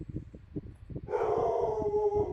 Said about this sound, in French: qu'est-ce que mon chien a comme ça aboyé